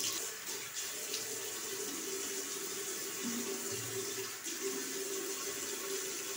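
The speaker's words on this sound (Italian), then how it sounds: "per primo step ci bagniamo il viso con acqua calda" Hot water runs steadily from a sink tap as the face is wetted before shaving, a close, continuous broadband rush with faint splashing and no talk.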